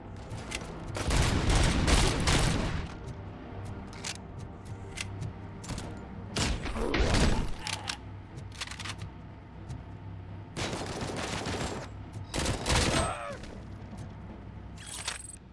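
Micro SMG gunfire in the game RoboCop: Rogue City comes in loud, dense bursts of rapid shots, several separate volleys spread through the span with quieter gaps between them and no talk.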